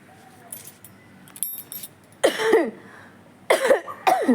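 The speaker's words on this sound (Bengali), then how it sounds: "প্রচন্ড শুকনো কাশি" Three harsh dry coughs in short bursts, close by, separated by brief quiet gaps with faint jingling earlier.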